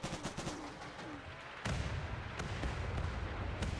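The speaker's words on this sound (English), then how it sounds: "Let's see if we can hit him with some rockets." Rockets fired at an enemy in RimWorld: a rapid series of sharp explosive cracks and thuds, then a heavier rumbling barrage of blasts that carries on to the end, loud and continuous.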